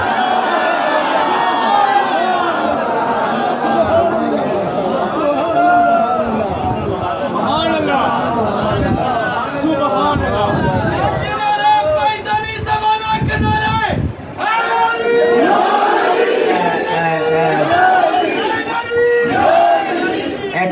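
A large crowd at a Milad-un-Nabi religious gathering in Hafizabad's Sitara Market raises loud, sustained slogan chants, many voices overlapping in surging waves that stay dense and close for the whole stretch.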